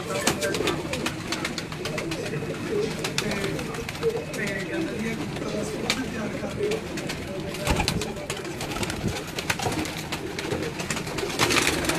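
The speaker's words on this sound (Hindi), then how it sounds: "ये टैडी कबूतर।" A busy, noisy flock of pigeons coos on a rooftop, low throaty calls mixing with wing flutters and clatter, while people talk nearby.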